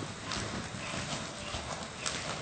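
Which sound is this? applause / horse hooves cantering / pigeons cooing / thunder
horse hooves cantering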